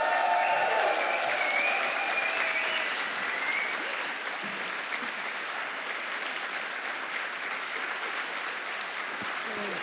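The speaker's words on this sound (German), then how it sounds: "Jetzt könnt ihr bitte euren Applaus nochmal geben für Rechtsanwalt Shanjo" An award-show crowd gives a lawyer a round of applause, a loud, continuous wash of clapping with a brief voice at the start, holding steady for about ten seconds.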